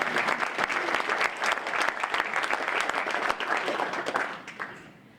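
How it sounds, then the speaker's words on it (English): A crowd claps steadily in sustained applause, dense and even, tapering off at the very end. "Let's please give a round of applause to these 4 candidates."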